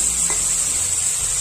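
Tomatoes with grated onion fry loudly in a pan for a curry, a close, steady high hiss and sizzle filling the whole moment, with no talking.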